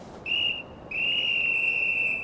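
Whistle blown in the Genshin Impact game, two shrill, piercing toots: a short blast, then a longer sustained one after a brief gap.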